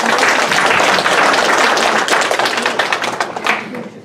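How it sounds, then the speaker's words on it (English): Seminar audience at an energy storage policy event gives a loud round of applause for the speakers, dense clapping that gradually thins and tapers over four seconds. "Let's give another round of applause to our great speakers today."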